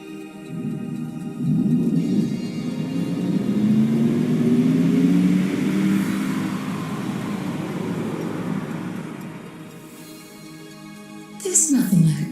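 The galaxy skipper vehicle from The Artful Escape video game hums and rumbles with a rising, revving drone that swells and slowly fades, followed by a brief bright whoosh near the end.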